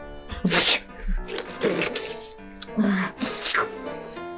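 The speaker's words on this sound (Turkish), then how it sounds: "Hala hapşırıyor." A woman sneezes repeatedly, several loud, close sneezes separated by short pauses, with excited talk in Turkish around them in a comic family scene.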